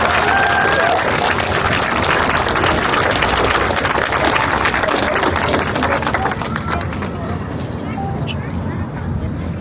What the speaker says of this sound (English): I'd like everyone to give a big round of applause for a special friend.